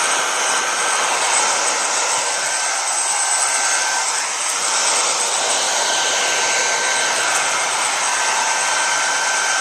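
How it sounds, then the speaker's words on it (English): A low-powered heat gun blows steadily on plastic sheeting over a broken car window, a loud continuous whooshing roar with a faint whine, close and unbroken. "We've got a little less powerful heat gun here, as called for by the directions."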